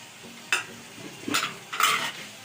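Spoon stirs yogurt and whole spices such as cardamom, cinnamon and cloves into sizzling minced-meat keema, three distinct scraping stirs with wet squelches over a soft background sizzle, close by.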